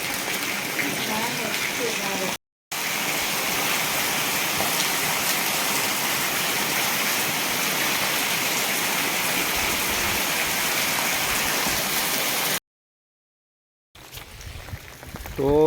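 Heavy rain driven by wind, a loud unbroken roar of water broken by two short silent gaps, with a faint quieter stretch at the end.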